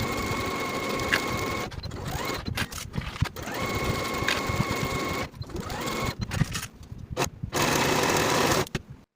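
Sewing machine stitching sleeve seams on a boxy top, a close, rapid mechanical whir and clatter in several bursts separated by brief stops, with no talking.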